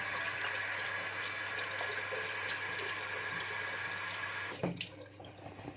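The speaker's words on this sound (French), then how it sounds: "J'essaie de me laver les mains avec l'eau chaude." Hot water runs steadily from a tap over hands being washed at a sink, a continuous close rush that cuts off abruptly near the end, leaving brief faint handling noises.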